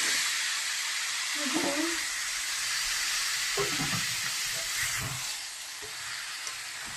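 Duck meat sizzles and fries in hot oil, a steady loud hiss with bits of stirring. A person speaks quietly over the frying.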